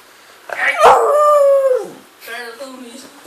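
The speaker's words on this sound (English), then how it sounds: "A dog who howls" A dog howls loudly and close, a long sustained wavering howl followed by a softer second howl, with no talking over it.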